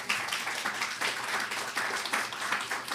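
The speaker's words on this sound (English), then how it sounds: "Give them a round of applause." Audience applause at an NAACP community conversation, a steady wash of many hands clapping that swells in a few waves and keeps going through the whole stretch, with no talking over it.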